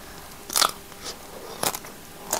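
Sharp crunchy bites into a hard frozen Magnum ice cream bar, a few separate crackling crunches with quiet pauses between them, close to the mic.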